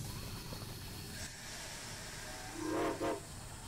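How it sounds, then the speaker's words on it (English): Train from the video game Poppy Playtime Chapter 2 rumbling along under steady background noise, with two short whistle blasts near the end. "We're finally riding the train of Poppy Playtime, and we're getting out of here, hopefully."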